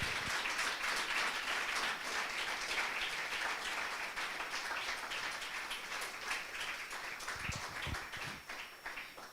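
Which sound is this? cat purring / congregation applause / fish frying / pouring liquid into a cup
congregation applause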